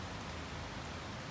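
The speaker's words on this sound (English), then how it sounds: "It's raining." Steady rain falls outdoors as a continuous, even hiss of drops on surfaces, moderately loud and unbroken, with no voices.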